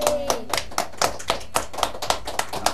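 Sparse clapping from a small studio audience during a Japanese anime talk show, a few people beating out separate, fairly loud individual claps at a steady pace, with no one talking.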